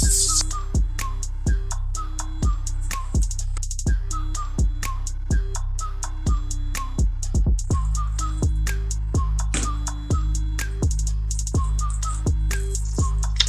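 Velcro hair rollers are ripped out of natural, tightly textured hair one after another, each pull a sharp, close tearing crackle in a steady repeating rhythm over a constant low background hum, with no talking.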